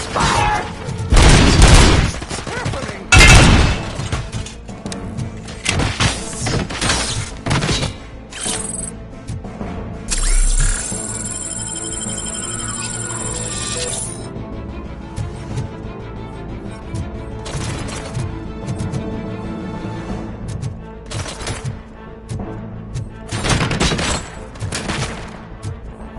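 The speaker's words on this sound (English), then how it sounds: "Oh, those UEDs shoot so beautifully. Too bad they're shooting at me." UED robots firing guns in the RoboCop: Rogue City video game, loud bursts of gunfire and heavy blasts that come in clusters, easing into a lower rumble and then flaring up again near the end.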